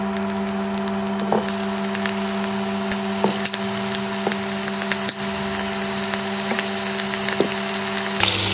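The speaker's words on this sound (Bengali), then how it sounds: "আলুগুলো ভাজার সময় আমরা অল্প হলুদ গুঁড়ো" Potatoes frying in a little oil, with a steady close crackle and sizzle throughout, scattered pops and clicks, and a faint steady hum underneath, no talk.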